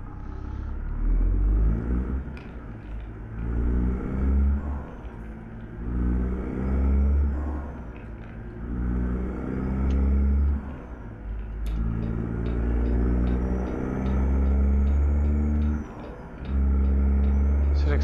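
Kenworth W900 heavy-haul truck pulling a Globe lowboy in American Truck Simulator, its engine a steady loud low rumble with harmonic drone that swells and eases as it gathers speed downhill, with occasional faint voice underneath.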